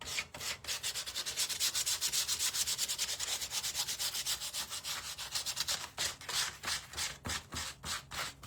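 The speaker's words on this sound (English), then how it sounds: "I'm going to come back in with my little piece of sandpaper and we're going to sand it a little" Hand sanding of milk-painted salvage wood with a small piece of sandpaper, brisk rhythmic back-and-forth scratchy strokes, close and continuous, breaking into shorter separate rubs toward the end.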